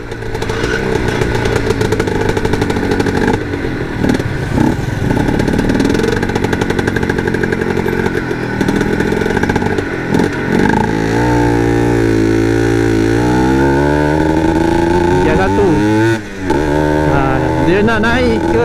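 Yamaha TZM motorcycle engine running loud and close without a break, its pitch rising and falling as it revs through the gears, with some sweeps climbing sharply before dropping back.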